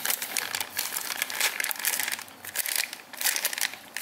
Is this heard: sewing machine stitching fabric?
no